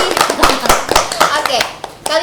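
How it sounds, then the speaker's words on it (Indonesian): A group on an Indonesian talk show claps their hands on request, giving a short, loud, dense burst of claps that fades within about two seconds, mixed with voices. "Coba kasih tepuk tangan."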